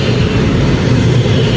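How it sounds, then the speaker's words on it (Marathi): A train pulls into a station in Dresden, heard as a loud, continuous low rumble of rolling rail cars with a steady mechanical hiss and no clear pauses. "सो ट्रेन आली आहे आमची."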